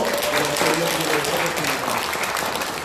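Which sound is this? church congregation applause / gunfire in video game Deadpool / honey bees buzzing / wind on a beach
church congregation applause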